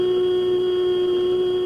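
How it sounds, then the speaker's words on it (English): A tuning fork watch gives off a steady, unbroken electronic hum, a pure sustained tone lasting throughout with no ticking or pauses. "Then, like this tuning fork."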